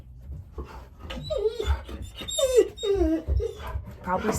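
An agitated pet dog reacting to something outside gives high, wavering whimpers and short yips, close and fairly loud, mixed with a person speaking softly to it.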